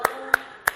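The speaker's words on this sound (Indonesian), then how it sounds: "tepuk tangan yang meriah" Three evenly spaced claps in a classroom, each a short sharp burst about a third of a second apart, close and fairly loud with a faint murmur of the room between them.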